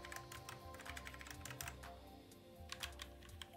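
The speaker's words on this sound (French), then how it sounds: "ici les touches remergées mécaniques. Le clavier Logitech G413 carbone." Rapid clicky keystrokes tap out in an irregular rhythm on a Logitech G413 Carbon mechanical keyboard, close and fairly quiet, with no talking.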